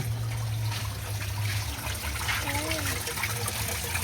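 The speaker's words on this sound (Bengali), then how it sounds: "ঝর্ণা, ঝিরিঝিরি ঝর্ণা" A small trickling waterfall splashes steadily in an evening outdoor setting with fish in the water, a continuous close wash of falling water with a faint voice briefly audible underneath.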